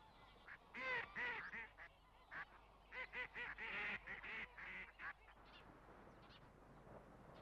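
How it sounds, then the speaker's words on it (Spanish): Large flocks of waterfowl, geese and ducks, arriving at Spanish wetlands in autumn from central and northern Europe, give bursts of honking and quacking calls that come in clusters and fade out toward the end. "coincidiendo con la llegada de grandes bandadas de aves acuáticas procedentes del centro y norte de Europa"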